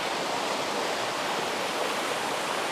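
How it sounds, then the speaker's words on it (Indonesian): The Brantas river flows below, heard as a steady, dense rush of water with no breaks and no voices. "Kalau di bawahnya itu udah Sungai Berantas tuh."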